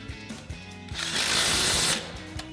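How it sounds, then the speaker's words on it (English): An impact wrench with a 17mm socket tightens a nut while front upper control arms are installed on a Toyota 4Runner, one loud buzzing rattle of about a second, close by, with faint clicks of handling before and after. "we'll go ahead and tighten that back down with our 17mm socket on our impact"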